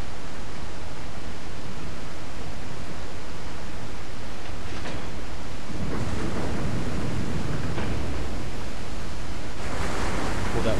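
A waterfall in the video game Resident Evil 4 roars as a dense, continuous wash of rushing water, loud and steady throughout, with a few surges in intensity.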